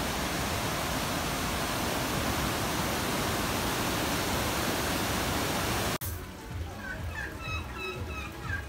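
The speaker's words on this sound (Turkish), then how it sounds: "Peguche şelalesi çok çok güzel." Peguche waterfall in Ecuador roars as a loud, steady wash of rushing water for about six seconds, then cuts abruptly to a quieter outdoor scene where people talk.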